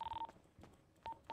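Telephone keypad tones from a phone dialing in the GTA V roleplay game: a steady tone opens, then two short separate beeps follow, clear and close with no speech.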